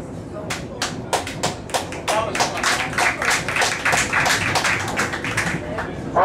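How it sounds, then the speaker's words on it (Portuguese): Crowd clapping in rhythm, sharp distinct claps landing in a steady unison beat at close range, with a faint murmur of voices beneath. "Muito bem, palmas."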